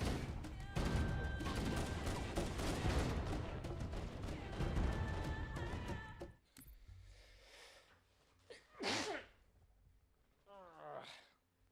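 Gunfire in Halo: The Master Chief Collection, dense rapid bursts crackling for about six seconds before cutting off, followed by quieter game sounds and a couple of voiced grunts.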